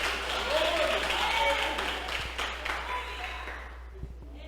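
Church congregation claps for Jesus during a worship service, a moderately loud wash of applause with mixed voices that thins out and fades toward the end.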